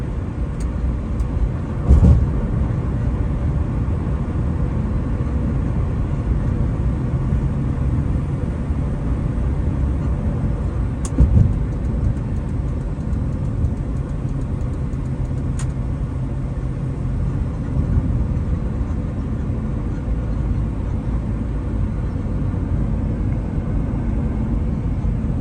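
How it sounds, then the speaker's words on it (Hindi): A 2005 Honda Civic automatic cruises at about 70 with low revs, heard from inside as a steady, close road and engine rumble with a few faint clicks. "मैं क्रूज़ कर रहा हूँ इस वक्त, ऑलमोस्ट 70 टच कर रहा हूँ"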